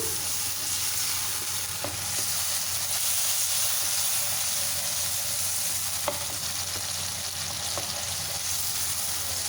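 Chili sauce cooks in a pan for pasta, giving a steady loud sizzle and bubbling hiss with occasional scraping clicks from stirring, and no talk.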